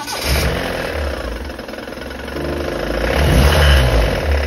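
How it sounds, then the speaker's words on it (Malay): A Proton Wira engine runs loud and close, with a low mechanical knock that seems to come from below and behind the engine. The sound rises and dips slightly as the engine revs, and nobody speaks. "Korang dengar kah bunyi bertukang tu?"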